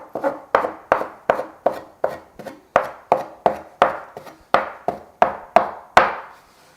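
A knife cuts soft gnocchi dough made with hot water into pieces on a wooden board, about a dozen evenly spaced, close thuds that each fade quickly.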